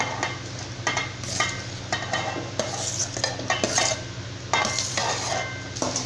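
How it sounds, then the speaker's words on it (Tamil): Cooked basmati rice tossed with vegetables in a frying pan for vegetable fried rice, with repeated spatula scrapes and clinks against the pan over a soft steady sizzle, close and busy. "இப்போ வந்து நம்ம ரைஸ் சேர்த்தியாச்சு. இப்போ எல்லாத்தோடையும் நல்லா மிக்ஸ் பண்ணி விடணும்."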